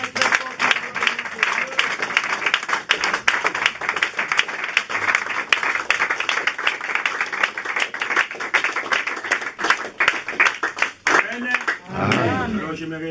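A church congregation claps and applauds steadily at close range, with dense continuous clapping that fades near the end as a voice begins speaking.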